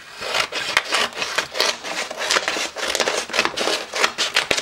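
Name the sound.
cutting a piece from a roll of stencil film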